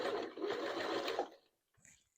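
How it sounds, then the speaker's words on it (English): A sewing machine runs a straight stitch through doll hair in a brief, steady whirring burst of just over a second, then stops, followed by faint handling rustle. "So I'm just right now using a straight stitch."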